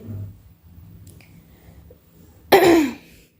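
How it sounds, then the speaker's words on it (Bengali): A person with a cold gives one sharp, close cough or throat clear near the end, after a quiet stretch of faint household sounds in a kitchen. "অনেকটা ঠান্ডা লাগছে একটু পরপরই শুধু কাশি উঠতেছে"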